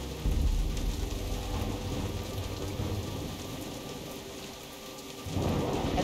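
Heavy rain and rolling thunder from the video game Jurassic Park: The Game, Episode 1: The Intruder, a steady loud downpour with deep rumbles at the start and end, with no voices.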